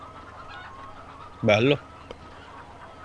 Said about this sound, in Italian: vi presento qualche pollo finché siamo qua